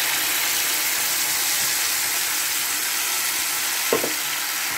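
A paste of cashew, melon seed, tomato and green chilli sizzling in a hot pan, a loud, continuous frying hiss close up, with one brief clink near the end.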